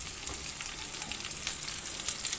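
Ridge gourd sautéing in a pan, a soft, even sizzle with faint crackles running continuously and quietly.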